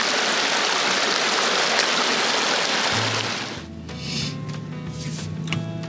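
A vehicle's tires roll through a shallow desert creek crossing, producing a loud continuous wash and rush of water for about three seconds, then fading into lower engine rumble with lighter splashing.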